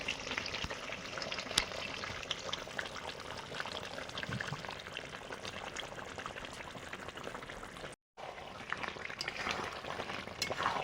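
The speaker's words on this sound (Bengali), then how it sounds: "এবারে এখানে আছে জিরে, ধনে, গরম মশলা দিয়ে দেবো, দিয়ে সামান্য একটু জল দেবো, গরম জল" Chicken curry bubbling and sizzling in a pan as cumin, coriander, garam masala and a splash of hot water go in, a steady close hiss and bubbling with a brief silent gap.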